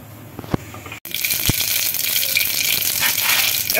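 Mustard seeds dropped into hot oil for a tadka for sambar, a couple of soft knocks and then a sudden loud sustained crackling sizzle, close and steady, no talk.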